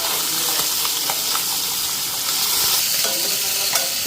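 Fish fry crisply in hot oil with a dense, steady sizzle and crackle throughout, close and loud, with occasional sharper pops and faint stirring noises.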